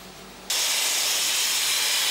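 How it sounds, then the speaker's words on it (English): Dry abrasive blasting bursts in after a quiet half second as a loud, steady, harsh hiss of rushing air and grit, continuous and close with no voices. "Dry abrasive blasting, as well as slurry blasting, is a very noisy process."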